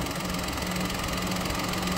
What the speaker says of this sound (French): C'est une horreur ce moteur.